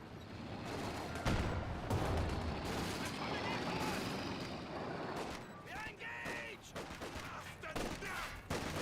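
Mortar and artillery fire in Company of Heroes 2, a continuous rumbling battle din with booms and scattered shots, heard under a voice.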